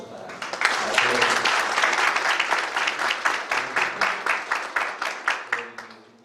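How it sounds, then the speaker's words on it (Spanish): Audience applause at a seminar on workplace harassment: dense, steady clapping from many hands builds quickly, holds for several seconds, then thins into scattered individual claps and fades out. "así que pido un aplauso para todos"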